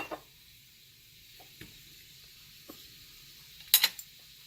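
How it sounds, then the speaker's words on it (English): Soft sizzling hiss of mushrooms in a pan, steady and low, with a few faint clinks and a brief louder scrape near the end. "Already starting to sizzle here."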